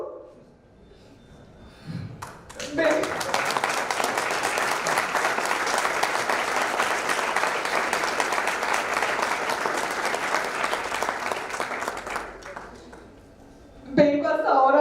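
Sustained audience applause at a book launch for an environmental court book, dense steady clapping rising abruptly and holding for about nine seconds before cutting off, with a voice heard briefly at the start and end.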